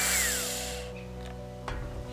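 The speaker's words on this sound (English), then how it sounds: "Just transferred some of my energy into this drill" A power drill runs for under a second with a whining motor that spins down quickly, then fades into a quiet room with a brief knock.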